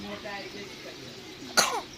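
A single sharp cough bursts out near the end, close by, over low background voices and household murmur.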